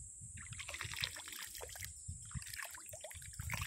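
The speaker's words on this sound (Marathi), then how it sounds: "पाणी बघा कसं टिंबू आहे इथं" Cold water trickling in a small shallow stream, a soft continuous babble of little splashes and drips close by, with faint background noise.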